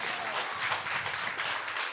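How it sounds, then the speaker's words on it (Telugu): A church congregation at Sunday worship claps loudly together, a dense, steady wash of applause lasting a couple of seconds with no voices above it. "కొట్టు చప్పట్లు గట్టిగా."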